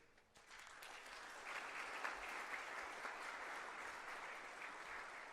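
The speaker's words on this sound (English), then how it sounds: "We also welcome you with a thunderous applause." A crowd claps continuously at an HR conclave in Bhopal, building quickly from a quiet start into sustained, fairly distant applause that holds steady to the end.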